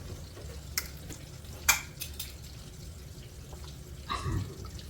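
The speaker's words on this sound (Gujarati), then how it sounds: "જો એમાં વઘાર માટે મેં તલ અને લીમડો તો નાખી દીધો છે." Sesame seeds and curry leaves sizzle softly in hot oil as a tempering for Kathiyawadi chevdo, a low steady crackle with a few sharper pops and stirring clinks, fairly quiet and with no talking.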